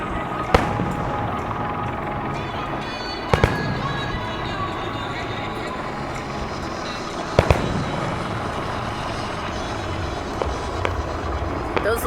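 Fourth of July fireworks in Washington DC: a steady dense crackle and rumble with several sharp booming bursts, heard from the crowd, with people chatting nearby.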